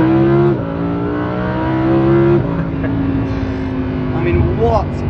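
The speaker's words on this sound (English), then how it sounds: "Naturally aspirated V10." A naturally aspirated V10 supercar engine revs hard and close, its rising howl dropping sharply at each of several quick gear changes before climbing again.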